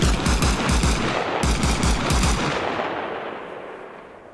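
Automatic gunfire from zeroing a rifle in the video game Arma Reforger, two loud bursts of rapid shots with a short pause between, close, followed by a long echoing tail that fades away.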